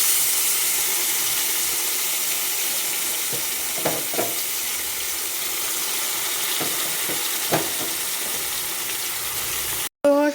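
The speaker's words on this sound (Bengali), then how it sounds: "এবার কড়াইতে একটু করে মোচা দিয়ে দিই।" Chopped banana flower cooking in a wok with peanuts and a pinch of salt sizzles and hisses steadily and loudly, broken by a few light scrapes and taps of a stirring spatula.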